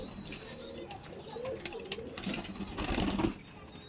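Domestic pigeons being let out, with soft cooing and scattered bursts of wing flaps building toward the end, fairly close and moderately loud.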